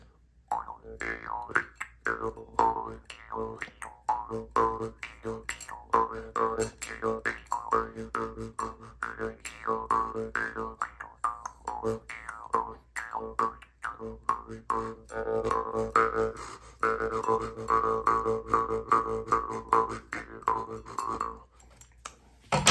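A Mongolian Jew's harp twangs in quick, bouncy rhythmic patterns, its buzzing metal tongue shaping vowel-like formant sweeps, played close and fairly loud without pause for over twenty seconds.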